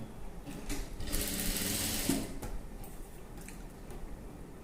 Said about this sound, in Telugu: ఇప్పుడు ఈ పీసెస్ ను ఇలా మనం స్టిచ్చింగ్ చేసుకుందాం.